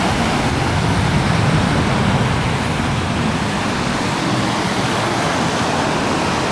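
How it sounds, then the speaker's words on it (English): Shallow Pacific Ocean waves break on a beach in a steady, loud, unbroken wash of surf noise that fills the whole stretch, with no voices. "Waves is different."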